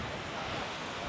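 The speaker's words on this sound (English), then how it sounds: "The waves do get a little bit choppy here." Broad, steady rushing of choppy surf at Kamala Beach, Phuket, Thailand, with wind noise buffeting the microphone, loud and continuous over a brief stretch with no voices.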